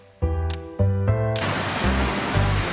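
White waves breaking hard on the shore at Newcastle, New South Wales, a sudden loud broadband crash of surf that swells into sustained roaring wash after a few brief tonal thumps at the start.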